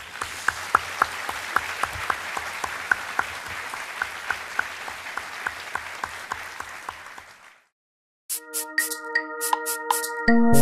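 An audience claps steadily for several seconds, then the applause fades to silence before brief sharp tones and clicks follow.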